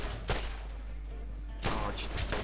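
Weapon fire in the video game Borderlands: a sharp shot near the start, then a quick burst of several loud reports near the end, over a low steady hum.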